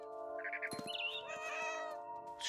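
A cat meows in the video game What Remains of Edith Finch, with several drawn-out, rising and falling meows in quick succession, loud and close over a steady background music drone.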